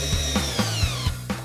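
A power drill drives a GRK structural screw into wood, with a steady close whine and a series of rhythmic bursts as the screw bites in, and no talking.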